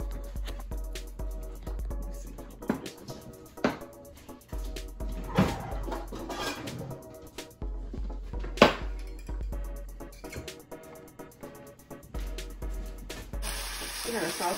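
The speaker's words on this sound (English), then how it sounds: "So we need to saute these until they become translucent." Onions and bell peppers sauté in a pan while a casserole is being made, giving a steady low sizzle with scattered stirring clatter and a few sharper utensil knocks, with a brief faint high whine near the end.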